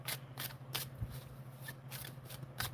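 A tarot deck being shuffled by hand, a run of crisp riffling card bursts repeating at a steady pace, close and fairly quiet against a low steady hum.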